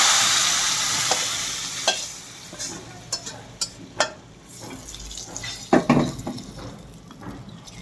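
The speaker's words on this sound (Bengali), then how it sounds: "এখন আমি ডালের মধ্যে পেঁয়াজটা ঢেলে দিচ্ছি।" Fried onion tempering with dried chili and cumin poured into simmering mung dal with rohu fish heads, giving a burst of sizzling and bubbling with scattered clinks and stirring knocks, fading to a low steady simmer.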